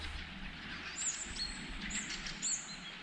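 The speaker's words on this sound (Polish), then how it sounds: "Poranne ptasie trele." Morning birdsong in an autumn mountain forest in November, with a few short, high chirps rising faintly at intervals over a quiet, still background.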